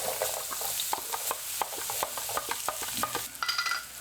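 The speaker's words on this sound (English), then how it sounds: "I'm going to get my onions in first, get them a quick fry up." Onions frying quickly in a pan give off a steady, close sizzle with rapid, repeated scraping stirs all the way through.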